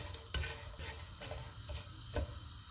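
Whole spices roast in a pan: cardamom, cloves, black peppercorns, cinnamon, cumin and star anise. A gentle sizzle runs under regular, close scraping stirs about every half second, with no talking.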